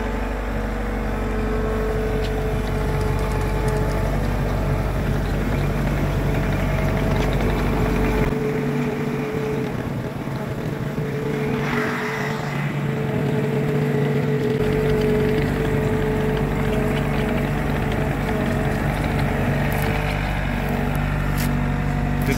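A skid steer loader's engine runs steadily for over twenty seconds, a constant low idle-like drone with faint mechanical rattles and no clear change in load, heard close with no talking.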